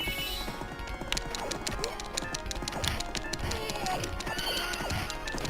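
A horse in a video game neighs over a busy run of rapid clip-clopping hooves, mixed with other game effects and some talk.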